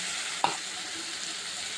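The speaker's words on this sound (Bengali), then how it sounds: "এই দেখো মশলা দিচ্ছি জিরা, আদা, কাঁচা লঙ্কা, শুকনো লঙ্কা" Cumin, ginger, green chili and dried chili sizzling in hot oil over browned onions in a pan, with a steady frying hiss and a brief stir or clink near the start.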